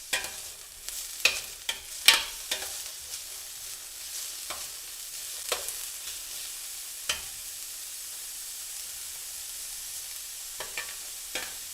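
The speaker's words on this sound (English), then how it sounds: "So we are sauteing these onions until they are brown." Onions sauté in a paella pan with a low, continuous sizzle, broken by scattered clicks and scrapes of a spoon stirring against the metal.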